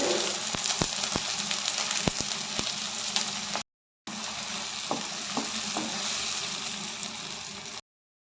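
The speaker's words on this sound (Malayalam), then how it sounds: "ഇഞ്ചി ചെറുതായി കട്ട് ചെയ്ത് ചേർക്കാം. പച്ചമുളക് ഇടാം." Finely chopped ginger and green chillies fry in hot oil for a Kerala crab curry, giving a dense, steady sizzle with occasional stirring clicks and a brief gap of silence partway through.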